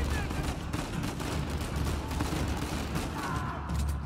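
Rapid gunfire from a third-person shooter, Uncharted 4, crackles in a steady, dense barrage with booming low rumble throughout, mixed with faint game effects and a voice nearby.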